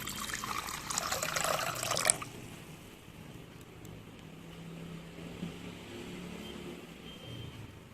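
Water splashes and pours loudly for about two seconds, then gives way to a quiet, low background rumble.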